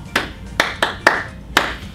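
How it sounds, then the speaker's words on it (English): A teacher gives a clap signal in a drama class: five sharp, close hand claps in an uneven rhythm, each ringing briefly against quiet. "teacher says, or does the clap."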